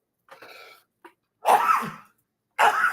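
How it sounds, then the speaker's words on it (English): Two loud, sharp sneezes, each preceded by a quiet inhaling catch, close to the microphone with silence between. "bless you"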